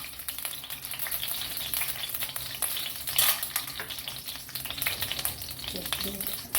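Edible gum frying in ghee for fasting dry-date and coconut laddoos, a dense continuous sizzle close up with light stirring scrapes and a few clinks, no voices.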